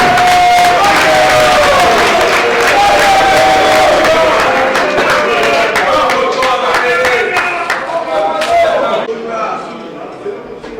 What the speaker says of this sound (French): Sur vos acclamations